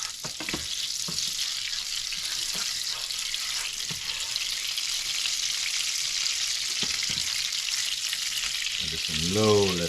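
A tablespoon of butter melts over low heat in a pan with a continuous close hiss and sizzle and scattered small pops and clicks, then a short rising squeak near the end.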